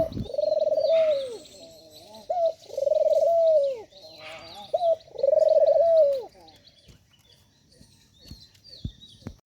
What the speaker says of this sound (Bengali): যে পাখিগুলো দেখলা এই পাখিগুলো আমার অনেক পছন্দের